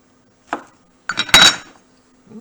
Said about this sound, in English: And I see a little bit of fat there. I'm going to cut that out.